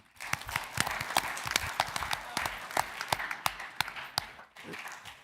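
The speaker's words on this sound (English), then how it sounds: "So I think they deserve a round of applause too tonight." An audience at a school board of education meeting claps for several seconds, with sharp separate claps that sound like a modest crowd, fairly faint and then tapering off near the end.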